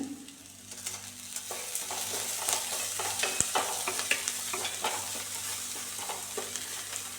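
Onions and other ingredients with salt being sautéed in a pan for a green tomato stir-fry, a steady close sizzle broken by repeated scraping stirs and spatula clicks.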